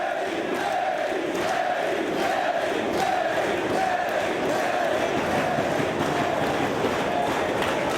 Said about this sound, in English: you hear this crowd supporting Fast Eddie